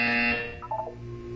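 A loud electronic buzzer in the Portal 2 video game gives one harsh tonal blast that fades into a short falling electronic tone.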